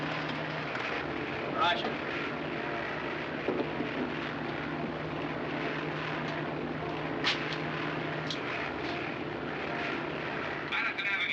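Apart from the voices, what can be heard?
aircraft engine in flight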